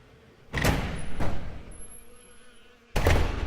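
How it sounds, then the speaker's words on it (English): Door to a tunnel in a story episode, heard as two close, heavy mechanical bursts, then a quieter sliding stretch with a thin high whine, and a final loud thud near the end. "Open this door."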